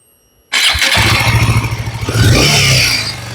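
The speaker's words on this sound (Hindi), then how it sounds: "तो ये इंजन की साउंड तो आपने सुन ही ली है कि किस तरीके की साउंड आ रही थी इंजन में।" A Royal Enfield Himalayan 450 motorcycle engine starts abruptly after silence and settles into a loud, close, throbbing idle with a slight rev near the end.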